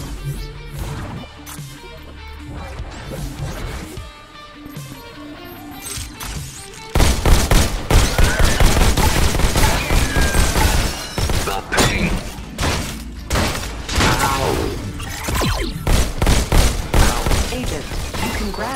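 Gunfire in the Robo Recall VR shooter, a quieter stretch giving way to loud, rapid bursts of shots, thuds and shattering impacts that continue in dense flurries, with some speech over the action.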